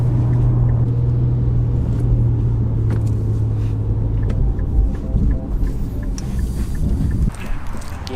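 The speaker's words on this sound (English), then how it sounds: "Sports Plus mode, it takes off, the twin turbos kick in" A 2018 Infiniti Q50 Red Sport twin-turbo in Sport Plus mode, heard from inside as a loud, continuous engine rumble pulling hard, with a steady droning tone that shifts partway through as it accelerates.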